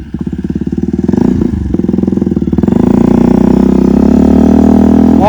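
Motorcycle engine revved hard with too much throttle during wheelie practice, loud pulsing putter that climbs and holds a strained high rev after a brief dip, close by and alone.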